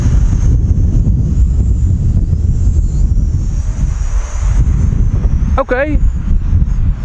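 Heavy wind roars across the microphone throughout a windy outdoor test flight of a TIANQU XS809W entry-level FPV quadcopter, steady and loud, with a brief spoken word near the end.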